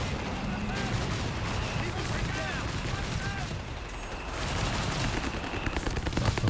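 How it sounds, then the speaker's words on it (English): Rifle fire from Company of Heroes 3 crackling from all sides in a 2v2 battle, dense overlapping gunshots and bursts over a continuous rumble of combat, loud and sustained. "Rifle coming in from every angle at the moment."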